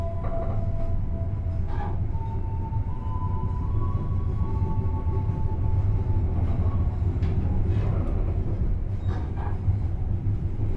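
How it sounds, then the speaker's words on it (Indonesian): The Sembrani passenger train departs Tegal station, rumbling steadily and close by, with faint metallic squealing tones drifting over the heavy, continuous roll of the wheels. "Pukul 13:04 kereta api Sembrani diberangkatkan kembali dari stasiun Tegal."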